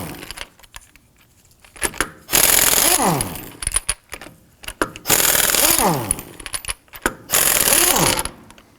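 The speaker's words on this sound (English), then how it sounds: "Using a 19mm thin wall socket, I'm going to go ahead, loosen and remove our lug nuts and our locking key." A power impact tool with a 19mm thin-wall socket spins loose and removes the lug nuts and locking key from the front wheel of a 2005-2009 Subaru Legacy, in three loud, close rattling bursts with metallic clinks between.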